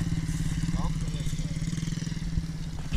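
Small MRF 80 or KTM 250 dirt motorcycle engine revving steadily while being ridden outdoors, a continuous buzzing drone that stays close and loud, with a person speaking over it.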